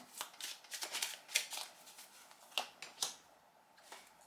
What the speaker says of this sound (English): I'm going to shuffle your cards with intention to see what's coming your way